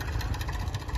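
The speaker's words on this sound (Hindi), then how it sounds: "मैसी 1035 है ट्रैक्टर" A Massey Ferguson 1035 tractor fitted with a 6-foot Sonalika rotavator on a farm field rumbles with a steady, low diesel drone, close and continuous.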